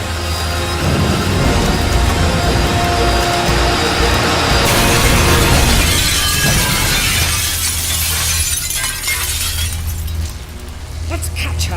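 Glass shatters loudly in a horror video game, a dense crash spreading across the whole range and then breaking up into scattered tinkling debris, with continuous game ambience beneath.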